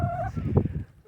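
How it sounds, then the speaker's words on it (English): Backyard chickens giving a short, close burst of clucking and squawking, one brief call and then a few quick notes. "Chickens want to say hi,"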